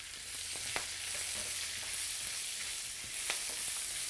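Onions and large chilies fry with a loud, continuous sizzle and crackle in a pan, with a couple of sharp utensil taps; no voices.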